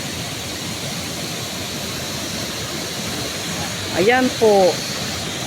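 Estrella Falls, a waterfall in Narra, Palawan, as a steady broadband rush of falling water running throughout, with a brief voice speaking near the end.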